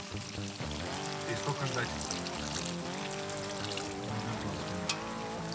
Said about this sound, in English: 700 milliliters of water, this much we have to put in on top.